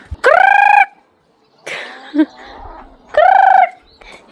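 Loud fowl calls up close: two long, harmonic squawking cries separated by quieter clucks and rustling, a short break between each call.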